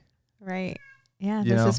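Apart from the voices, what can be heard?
cat meowing loudly outside the door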